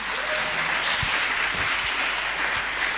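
A church congregation breaks into sustained, dense applause that stays at an even level throughout, with no speech over it.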